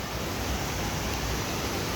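Steady broadband roar of a waterfall, seen from a scenic viewpoint, a continuous close wash of falling water that stays even and loud throughout with no voices.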